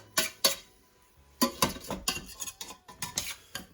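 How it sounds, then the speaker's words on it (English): Onions stirred in a pan on a stovetop at medium-low heat while cooking a chicken fettuccine Alfredo base: a spoon scrapes and clacks against the pan in quick, uneven knocks, fairly close and alone, with quiet gaps between strokes. "And we're just gonna give that a little stir."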